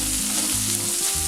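Chili powder and curry leaves frying in hot oil for a chicken mezhukkupuratti, a steady close sizzle with faint stirring through the brief moment, no voices.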